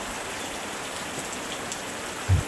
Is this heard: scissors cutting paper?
no